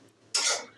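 Fish curry of lote fish stirred in an open pan with the lid off, a single brief scraping swish of spoon against metal, close and fairly loud after a quiet start.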